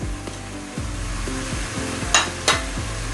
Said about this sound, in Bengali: এবারে মশলা খুব ভালো করে আমি কষিয়ে নিব